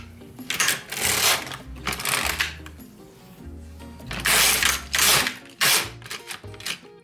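A Korean home knitting machine carriage being pushed across the needle bed, running in loud rattling mechanical bursts with clacks and brief catches, two long passes separated by quieter pauses, no talk.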